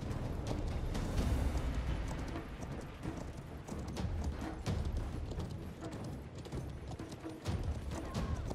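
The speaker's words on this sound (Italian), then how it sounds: "Sto cavallo corre malissimo, porca miseria." A horse gallops in the video game Conqueror's Blade, with dense rapid hoof clatter mixed into a busy battle soundscape that runs steadily throughout.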